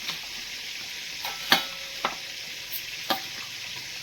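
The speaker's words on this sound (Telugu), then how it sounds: "వెల్లుల్లిపాయలు కూడా కొన్ని ఇట్లా వేసేసుకోండి. ఓకే, వేసేసుకొని బాగా కలపండి వీటిని." Garlic being stirred into tomato mustard pickle frying in a pan, a soft continuous sizzle with a few light scraping taps of a spoon against the pan.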